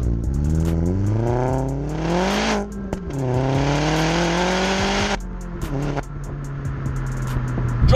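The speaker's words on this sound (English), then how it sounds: "Ooh, it pops quite nice. It sounds mental when it comes on boost." A tuned stage 3.5 Vauxhall Astra VXR with about 297 bhp revving hard on boost, engine note climbing through repeated rising sweeps, loud and close, with crackling exhaust pops between pulls.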